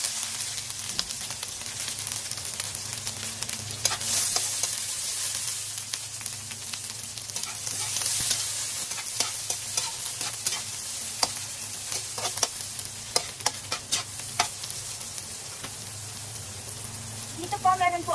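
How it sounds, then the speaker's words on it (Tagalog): Garlic and onion sizzle and sauté in a hot pan with stirring scrapes, a steady crackling hiss under occasional distant voices. "So, ating pong igisa ang bawang."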